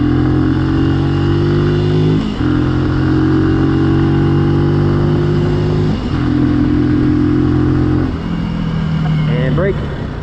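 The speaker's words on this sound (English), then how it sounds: "Let's do some acceleration and some braking." A Benelli motorcycle accelerates in a parking lot, its engine droning loudly and steadily with gear-change dips in pitch, heard close by.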